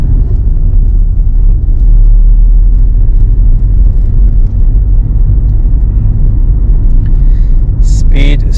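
A learner car pulls away from the kerb on a West Didsbury driving test route in Manchester, its steady low engine rumble and road noise continuous and close, with a brief sharper burst near the end.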